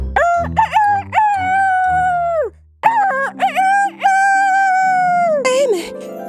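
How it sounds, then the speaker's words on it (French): A cartoon rooster in a children's fairy tale crows loudly several times in long, drawn-out calls, over soft background music and a rising musical effect at the end. "un coq sauta sur sa tête et se mit à chanter"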